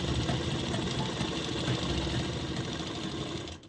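A sewing machine runs steadily while stitching a six-panel palazzo, giving a continuous close mechanical whir that holds for several seconds before cutting off at the end.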